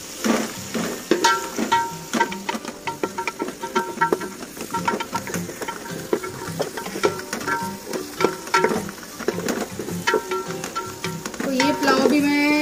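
Green chilies split in two frying with lightly browned onions in a pan, a steady close sizzle broken by frequent clinks and scrapes of a spoon stirring throughout, with no talk.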